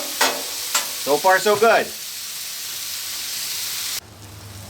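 Vegetables sautéing on a Weber grill turned griddle, a continuous close sizzle and hiss running under a man's brief speech before cutting out.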